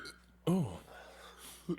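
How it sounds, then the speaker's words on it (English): A single short burp from a person, close and moderately loud, followed by quieter breathy noise and a brief second throat sound near the end. "Oh, that burp stank."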